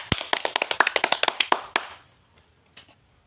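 A classroom of students clap their hands together in a quick, rhythmic burst of about fifteen sharp claps that stops abruptly, followed by near silence with a faint tap.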